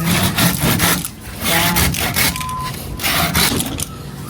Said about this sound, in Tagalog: naglalagari na ulit at nagpuputol po nitong mga kawayan